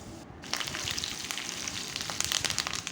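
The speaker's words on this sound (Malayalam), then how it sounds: "വെളിച്ചെണ്ണ നന്നായി ചൂടായി കഴിയുമ്പോൾ ഇതിനകത്ത് നമ്മൾ എഴുതിയിരിക്കുന്ന ചക്കമടലിൻ്റെ സ്ലൈസ് ചെയ്ത് വെച്ചിരിക്കുന്ന പീസുകൾ അതിനകത്ത് ഇടുക" Slices of jackfruit rind fry in hot coconut oil, a steady close sizzle dense with crackles and pops that grows busier after a brief quieter moment at the start.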